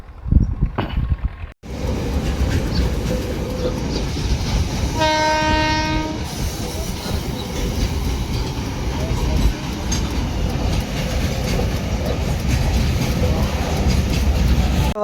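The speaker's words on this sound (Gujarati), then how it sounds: "રેલવે સ્ટેશન છે અને જુઓ ટ્રેન આવી ગઈ છે" A passenger train pulls into a railway station at Dhola, its long horn blaring for about a second over a continuous loud rumble and clatter of wagons rolling past close by, after a sudden jolt at the start.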